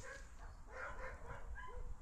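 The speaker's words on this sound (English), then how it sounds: "Typically American bulldog." An American bulldog outdoors in a sandpit gives a few moderate barks and soft yips over a steady background hiss, with no one talking.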